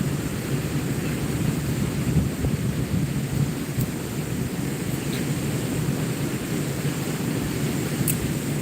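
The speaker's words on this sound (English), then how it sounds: "Why am I getting northwest wind right now?" Northwest wind blowing across open water while fishing for walleye, a steady, loud low roar and buffeting that continues without a break and with no talk.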